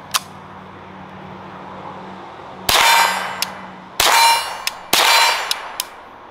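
An AR-7 rifle firing Remington Thunderbolt rounds with a malfunction: three loud sharp shots with ringing metallic clangs, spaced about a second apart, followed by smaller clicks and clanks of the action.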